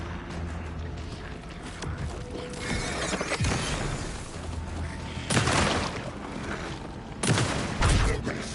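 Shotgun blasts in Alan Wake 2, two heavy booming bursts over a dense, mechanical game soundtrack with clanking and creaking textures.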